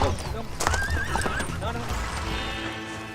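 A horse whinnies loudly near a saddle during a ride in rural Argentina, with a rising, wavering neigh over shuffling hoof sounds and background noise throughout.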